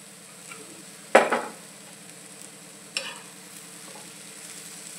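A spoon stirring raw onion and coriander into eggplant bharit in a pan, two short scraping stirs over a faint background hiss, otherwise quiet, with no talking.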